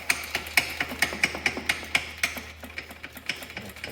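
A Milwaukee 1/2 inch impact tool tightens a bolt during a Cub Cadet 782 diesel motor and drive shaft install, giving a steady series of sharp close hammering clacks, roughly three per second, with no talking.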